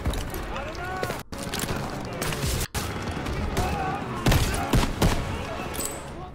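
Battle gunfire in Call of Duty WW2 comes as sharp bursts and rapid volleys, near and loud, mixed with thuds and scattered shouting voices through the fighting.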